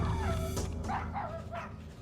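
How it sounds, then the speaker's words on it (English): Dogs barking at a home at night, several short barks and yips in quick succession, moderately close and loud, heard over a low background bed with no talking. "I remember hearing the dogs barking."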